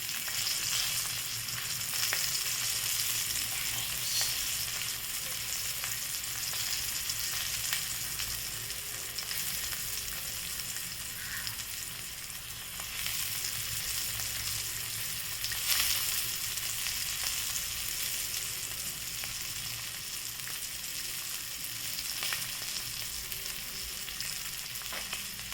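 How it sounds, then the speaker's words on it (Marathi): Fish fries steadily in a pan over low heat, a continuous close sizzle and crackle that holds even and unbroken throughout, with no voices. "तर ही अशी फिश फ्राय करून घ्यायची छान"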